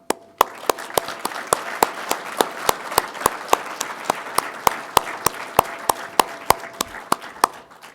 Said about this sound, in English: So I want to applaud you.